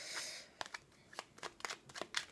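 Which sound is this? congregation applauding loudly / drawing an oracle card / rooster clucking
drawing an oracle card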